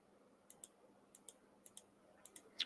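Faint, crisp clicks come in quick pairs, four pairs spaced evenly over a quiet background hiss, with a slightly louder click at the very end and no voices.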